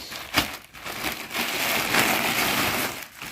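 A plastic gift bag being handled at a first birthday gift opening, with continuous close crinkling and rustling, a sharper crackle near the start, and no talk.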